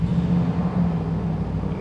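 A Bentley Bentayga S V8 SUV idles close by just after its start button is pressed, a steady low rumble holding for a couple of seconds.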